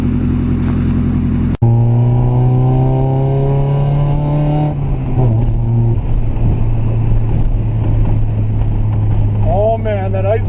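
Mazda Miata with an aftermarket exhaust revving and driving, a loud close droning note with rising and falling pitch sweeps, an abrupt change after a brief cut, and voices talking over it.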